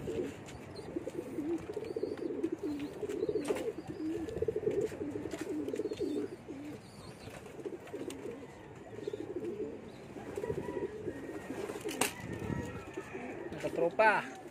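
Soft, low pigeon cooing repeats in steady rolling phrases throughout, with faint voices and outdoor background noise underneath.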